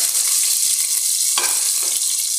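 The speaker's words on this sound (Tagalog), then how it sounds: "ginigisa lang po natin ang ating bawang. Susunod ko na po ang ating sibuyas." Garlic, onion and ginger sautéing in a pan for Filipino chicken tinola, a steady close broadband sizzle with a few brief stirring scrapes and spatula knocks, no talk.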